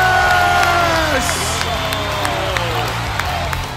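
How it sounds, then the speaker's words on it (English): Crowd gives a standing ovation at the Arnold Sports Festival, loud sustained clapping and cheering from a large audience with whoops rising above it while a voice speaks over the noise. "And he got a standing ovation"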